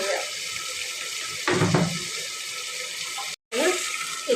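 Water runs steadily from a tap into a pressure cooker throughout, with a brief louder gush near the middle and a short cut-out near the end.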